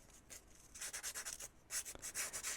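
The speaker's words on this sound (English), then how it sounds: "I'm just gonna" Sandpaper rubs along the glossy edges of paper journal cards in quick, rhythmic back-and-forth strokes, a faint, close, dry scratching with a brief pause partway through and no talking.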